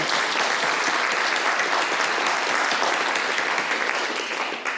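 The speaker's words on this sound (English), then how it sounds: "So big round of applause for me." A large audience at a university global affairs policy brief awards ceremony applauds steadily, dense sustained clapping filling the room at an even level throughout and easing only slightly at the close.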